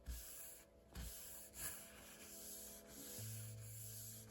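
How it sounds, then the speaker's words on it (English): A cloth wipes citrus cleaner residue off a wooden table with a thin, worn finish, giving soft rubbing strokes close up against a faint steady hum. "we're just wiping the residue of that citrus cleaner away"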